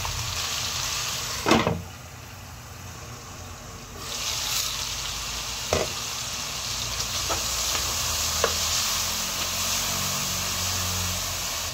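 Tomatoes sizzle in a hot frying pan over a steady hiss. A few sharp scraping knocks from stirring stand out against the continuous frying, with no talking.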